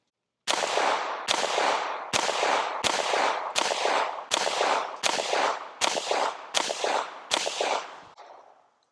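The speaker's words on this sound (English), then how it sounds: "I'm gonna shoot the top." A Ruger Mark IV 22/45 Lite pistol fires CCI standard velocity .22 rounds outdoors: ten sharp, evenly spaced cracks, each with a short decaying echo, loud and close.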